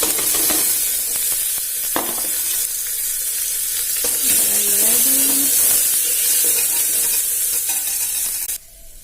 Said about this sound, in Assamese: এতিয়া দিম ধুই থোৱা দালিখিনি